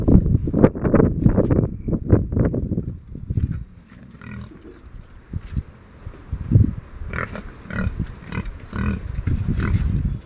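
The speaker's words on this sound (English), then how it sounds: "you'll just hear a lot of grunting and moaning at the minute" Pigs grunt and moan while being coaxed to load, a dense run of low snorting calls up close at first, then quieter scattered grunts with some breathy noise behind.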